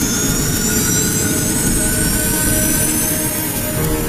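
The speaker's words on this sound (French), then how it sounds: "Bien, plein gaz." An Airbus A320's jet engines at full throttle during a test flight, a loud, continuous roar with a high whine running steadily throughout.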